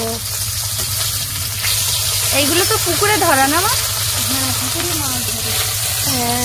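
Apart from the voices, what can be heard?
frying parshe and tilapia fish in oil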